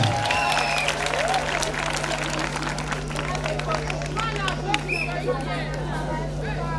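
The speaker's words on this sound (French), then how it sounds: "On peut l'acclamer très très fort." Audience applause at a Mother's Day show in Côte d'Ivoire, steady clapping from a crowd under a constant electronic hum, with babble and a voice talking over it.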